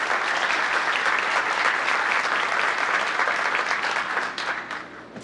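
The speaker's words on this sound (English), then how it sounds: "let's give a round of applause to the" Audience at a town council meeting applauds steadily for veterans and active duty members, a full, even roar of clapping that thins and fades near the end.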